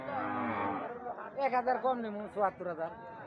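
A cow at a busy Eid al-Adha cattle market, giving a loud, close moo, followed by overlapping voices of people nearby.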